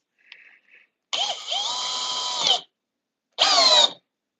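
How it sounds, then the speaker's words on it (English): A compact cordless drill in drill mode at speed 2 whines for about a second and a half after a couple of faint clicks, stops, then runs again in a shorter burst, close and clear with no talk. "All right, speed 2 and drill mode."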